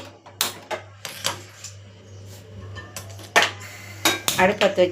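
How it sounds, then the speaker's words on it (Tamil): A pan is set down on a kitchen stove before making masala filling for rolls, giving several close, sharp metallic clanks and knocks spread over a few seconds above a steady low hum. "சட்டி அடுப்பில் வச்சுக்கிறேன்"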